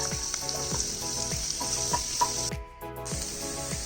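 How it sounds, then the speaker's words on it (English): Minced garlic sizzles in about two tablespoons of hot oil with a loud, steady frying hiss and a few light stirring taps. The sizzle drops out briefly near the end and then comes back. "The oil is hot, we'll add the minced garlic."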